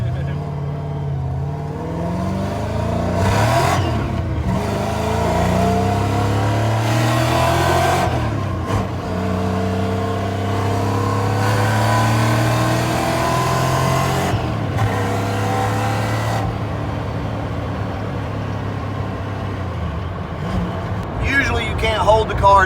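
A Ford Mustang Foxbody driving on a road, its engine revving up repeatedly through rising and falling tones, loud and close throughout, with no talking over it.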